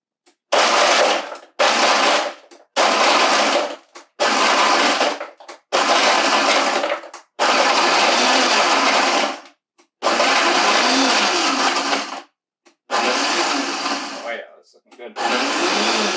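A countertop blender pulses bread into crumbs in loud, close bursts of harsh whirring and grinding, each lasting one to two seconds with brief pauses between them, and no speech.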